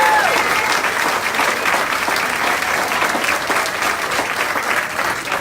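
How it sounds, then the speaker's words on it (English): Town hall audience applauding steadily throughout, a dense, loud wash of clapping from many hands with a faint crowd murmur beneath. "Let's give him a round of applause."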